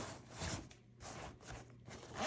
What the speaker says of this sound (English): It's got these nice little pull zippers